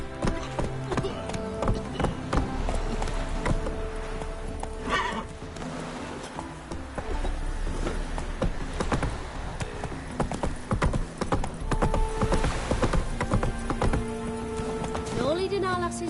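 A horse gallops in the Witcher 3 video game, with rapid rhythmic hoofbeats, whinnies and neighs, loud and close, while voices speak over the riding.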